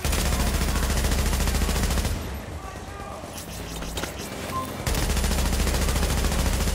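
Automatic gunfire in Tom Clancy's The Division rattles loudly and steadily, dipping for a few seconds mid-clip before returning at full strength, with a voice talking over it throughout.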